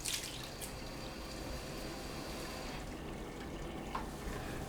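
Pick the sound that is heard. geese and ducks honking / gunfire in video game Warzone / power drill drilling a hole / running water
running water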